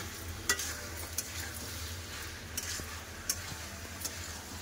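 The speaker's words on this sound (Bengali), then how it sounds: "লবণ টমেটো মাংস ভালো করে কষে নেব।" Chicken pieces cooked down with tomato and salt sizzle softly in a pan, a quiet steady frying hiss punctuated by several sharp clicks of a spatula stirring against the metal.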